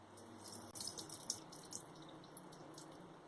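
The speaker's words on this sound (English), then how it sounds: "Now after 4 to 5 hours, now let us drain this water." Soaking water from soaked ragi grains drains in a kitchen, a soft trickle with light splashes and drips, faint and close, with no talk.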